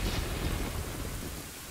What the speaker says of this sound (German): Es regnet, die Erde wird nass. Jetzt kommen Blitze.